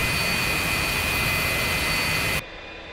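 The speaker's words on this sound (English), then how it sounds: "the aircraft will lift off at 115 to 140 knots" Steady, loud roar of an F-86F jet engine during takeoff in the DCS World flight simulator, a constant high whine with broadband rush that cuts off abruptly near the end.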